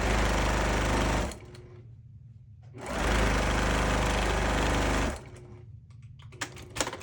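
A sewing machine runs in two long, fast-stitching bursts separated by a pause while free-motion quilting a baby star quilt; it is loud and close, and soft handling noises follow.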